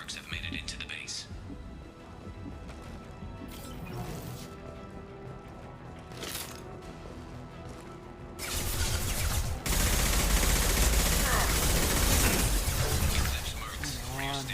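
Gunfire and concussive blasts from the Mass Effect Legendary Edition video game in a base fight against Eclipse mercenaries, with scattered shots early and a louder, sustained burst of firing and explosions later, under in-game voices.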